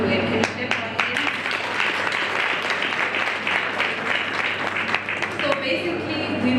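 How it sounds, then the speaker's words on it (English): An audience applauds at a water utility excellence award ceremony, sustained dense clapping lasting several seconds with steady loudness and scattered sharper claps. "Can you clap our hands?"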